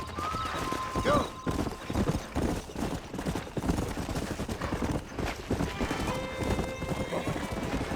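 Horses in the video game Red Dead Redemption gallop with rapid hoof clip-clop throughout and give a sharp whinny early on, close and loud under game ambience, with some talk mixed in.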